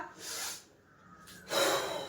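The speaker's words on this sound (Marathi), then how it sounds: "श्वास भरायचा श्वास घेणे सोडायचा नाहीये इथे श्वास भरला" During an exercise routine for reducing belly fat, a person takes two deep, audible breaths in close by, each a rushing inhale through the nose with a pause between them.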